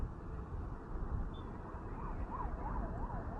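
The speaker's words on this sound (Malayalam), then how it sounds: "ആംബുലൻസ്." An ambulance siren wails in a rising and falling pattern as it passes on a busy road near an exit, heard from a motorcycle amid steady traffic and engine rumble, moderately loud over the last part.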